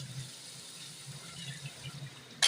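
Water poured into a pan of aloo chicken curry, a soft continuous trickling and gushing at low level for a couple of seconds, ending in a brief louder clatter.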